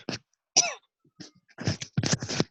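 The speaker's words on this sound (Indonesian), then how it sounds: "Batuk segala lagi." A few short, rough coughs in quick succession close by, with brief pauses between them and a throaty rasp at the end.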